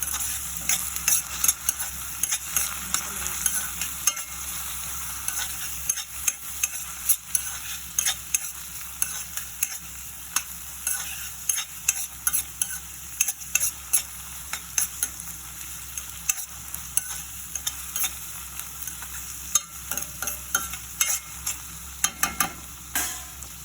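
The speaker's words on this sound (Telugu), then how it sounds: "అల్లం వెల్లుల్లి పేస్ట్ వేసాం కదా, బాగా వేసిన వరకు బాగా కలపాలి." Ginger garlic paste being stirred into a potato curry in a frying pan, with a steady sizzle and repeated scraping strokes of a spoon throughout, close and fairly loud, no talking.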